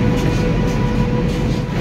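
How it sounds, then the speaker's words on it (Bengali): The Kanchanjunga Express, train 13176 from Silchar to Sealdah, arrives at New Jalpaiguri station with a loud, steady rumble of rolling coaches close by, continuous and unbroken. "13176 Silchar Sealdah Kanchenjunga express new Jalpaiguri station এসে পৌঁছালো।"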